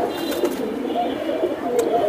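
Giribaz high-flyer pigeons cooing close by in a steady soft murmur, with a few brief louder calls over continuous background noise.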